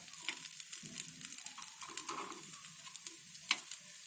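Semolina appe sizzle softly in an appe pan as a spoon turns them, giving a quiet crackle with light scraping taps and a small clink near the end.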